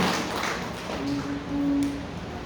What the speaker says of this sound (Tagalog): Palagpakan natin ang Panginoon sa Diyos.